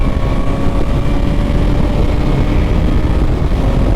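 A 2026 KTM Duke 200 motorcycle's engine drones loudly and steadily while being ridden, a constant buzzing hum with wind rush layered over it and no break in the sound.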